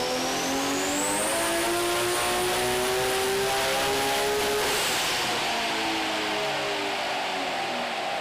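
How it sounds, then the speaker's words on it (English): A 2,920-horsepower drag car's engine screams on a dyno, the pitch climbing steadily to a high, loud, continuous wail before easing off slightly, with no voices over it. "ripped out 2 920 horsepower dyno runs back to back"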